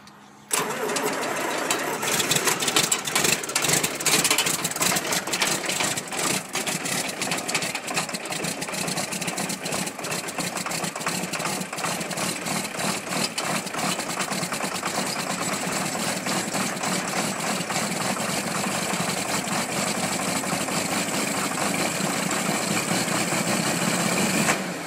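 Tractor engine idling after a cold start, a steady, rapid diesel clatter that turns over and settles into an even, loud idle held nearby, with no voices.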